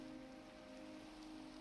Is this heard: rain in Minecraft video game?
yes